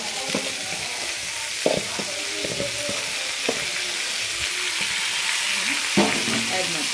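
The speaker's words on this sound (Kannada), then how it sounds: "ಚೆನ್ನಾಗಿ ಎಣ್ಣೆಯಲ್ಲಿ ಫ್ರೈ ಮಾಡ್ಕೋಬೇಕು" Ganake greens frying in oil in a pan, with a steady loud sizzle and occasional scraping stirs and soft knocks of a spoon throughout.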